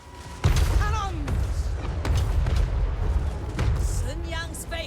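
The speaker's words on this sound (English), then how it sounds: "Cannons." Cannon fire in the Total War strategy game, a Cathay army battle, with several heavy booms landing at intervals over a continuous rumbling battle din, while a voice talks over it.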